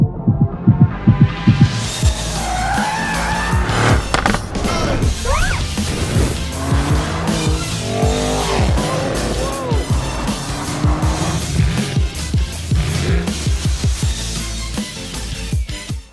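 A Mercedes-AMG GT 63 S engine roars up close amid screeching tire squeals and sharp clattering hits, the noise loud and continuous throughout.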